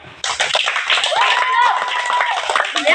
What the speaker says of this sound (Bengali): সবাই তালি দাও